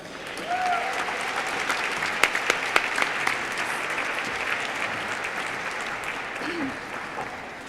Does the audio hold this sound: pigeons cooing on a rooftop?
no